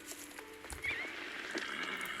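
A horse in the Star Stable video game gives a short whinny, with hoof clip-clops and other game sounds around it, fairly quiet overall.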